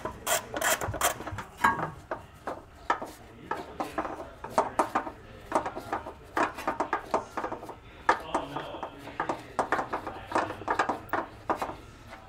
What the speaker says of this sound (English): that's where we're going to use our 10 millimeter socket and extension to access this one